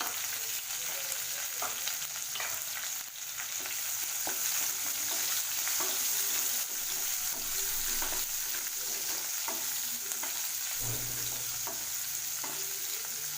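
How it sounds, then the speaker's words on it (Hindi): Okra (bhindi) for masala bhindi fries in hot oil in a pan, a continuous bright sizzle with scattered clicks of a spatula turning the pieces, close and steady without any voices. "भिंडी को भी हम फ्राई कर लेंगे।"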